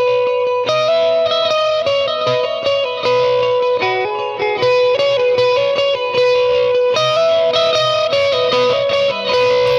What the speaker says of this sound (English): so you could either turn on a drive or just kick it to your bridge pickup